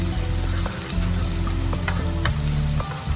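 Chopped fresh ginger sizzles loudly in hot oil in a pan, a continuous close fry with scraping stirs from a utensil woven through it.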